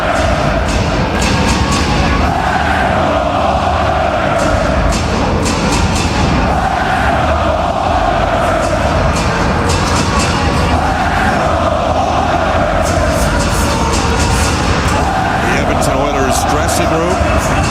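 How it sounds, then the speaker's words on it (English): Hockey fans at Rogers Place roar and cheer steadily before a Stanley Cup Final game between the Edmonton Oilers and Florida Panthers. The dense, loud crowd noise never lets up and swells in rhythmic waves of chanting, with an announcer talking over it. "You can hear the fans. They are ready to go."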